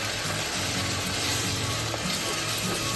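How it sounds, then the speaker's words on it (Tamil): Ginger garlic paste sautés in a pan with a continuous, even, close sizzle and crackle throughout, and no talking. "இஞ்சி பூண்டு வதங்கிடுது."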